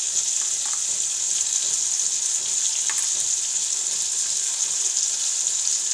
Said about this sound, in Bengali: সবজিগুলো একটু হালকা করে ভেজে নেব